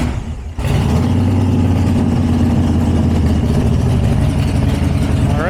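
A Harley motorcycle fresh from an oil change starts up and settles into a loud, close idle, its low engine rumble pulsing steadily after a quieter opening moment.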